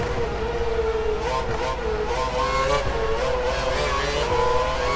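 A Formula One car's engine in the racing game F1 2012 during the British Grand Prix, howling steadily at high revs and rising and falling slightly in pitch as it runs flat out.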